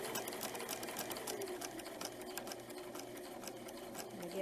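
A sewing machine runs steadily, stitching through the fabric of a baby dirndl in a rapid, continuous mechanical whir with a fast needle rhythm, close and fairly quiet.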